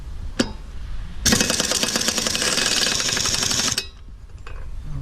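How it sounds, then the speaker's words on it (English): A pneumatic air gun with a 5/16 inch socket, run at 100 psi, hammers loose the flywheel nut on a Troy-Bilt 21-inch 675 Series Briggs & Stratton lawnmower engine. It gives one loud rattling burst of about two and a half seconds, close by. "Got my air gun here. It's a 5/16 inch socket."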